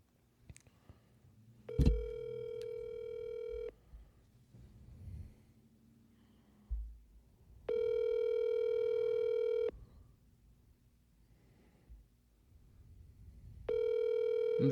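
A phone call's ringback tone repeats three times, each steady electronic tone lasting about two seconds with long quiet gaps between, faint and clean, alongside a few soft thumps and breaths.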